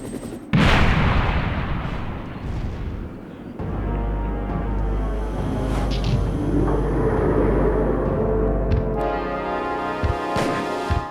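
Gunshots fire in Resident Evil: Director's Cut on PS1, playing as Jill, as sharp booming reports over a dense, continuous game rumble and music bed.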